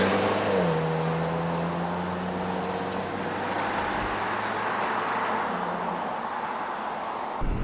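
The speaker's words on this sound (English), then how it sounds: "Nathan, we are now in the Honda CR-V" A 2014 Honda CR-V driving, heard from inside the cabin as a steady, loud road and engine rumble with a faint rising engine tone early on.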